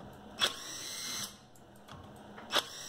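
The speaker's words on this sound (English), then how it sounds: "I'm using the 20 volt to take out the screws put in by the 12 volt." A Hercules 20 volt power tool backs out screws, giving two sharp, close whirring bursts about two seconds apart over a quiet background, with no talking.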